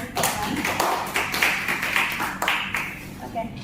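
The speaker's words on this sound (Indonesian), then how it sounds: "berikan terlebih dahulu tepuk tangan untuk delegasi Thailand" Audience clapping for the Thailand delegation at a student ASEAN Summit model meeting on human trafficking, a thin, scattered patter of hands that carries steadily through the few seconds with some voices underneath.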